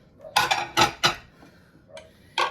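Black and white ceramic dishes clink and clatter as they are picked up and stacked, five or so sharp knocks spaced irregularly, close and moderately loud against a quiet room with no talking.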